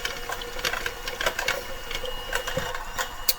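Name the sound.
electric mixer blending body butter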